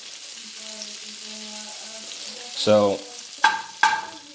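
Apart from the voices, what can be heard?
butter melting and sizzling in a pan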